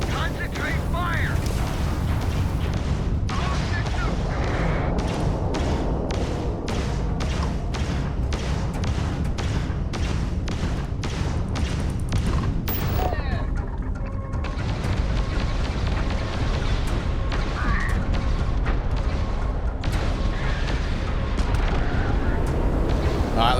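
Repeated explosions and weapon fire from a combat fight in the space video game Starfield, dense rumbling booms and bursts pounding steadily and loudly throughout, with a player's voice talking over the gameplay.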